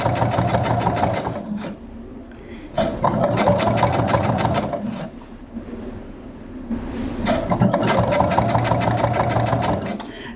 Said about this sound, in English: I'm just going to bring that round, just sewing 1/4 inch, and you just gently ease it in.